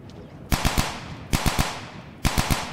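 Assault rifle fire in Dude Simulator 3 comes in three short bursts of about three rounds each, loud and close, separated by brief pauses.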